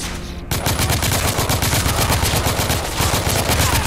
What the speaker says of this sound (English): Oh, this gun is better.